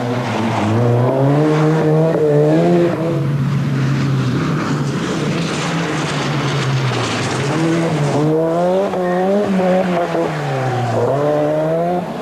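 A 1989 Circuit of Ireland rally car at full throttle on a stage, its engine note loud and close, rising and falling through gear changes and revs over about twelve seconds, with no talk.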